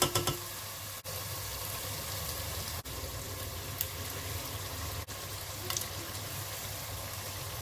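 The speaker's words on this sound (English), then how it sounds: "I'm going to put in the aubergines into this now." Aubergines hitting a hot pot for a spicy baingan masala curry, giving a continuous, even sizzle with a few faint clicks and pops throughout.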